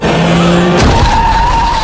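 A speeding car skids on a road in a movie scene, a loud tire squeal that shifts pitch midway and holds as a sharp, continuous screech.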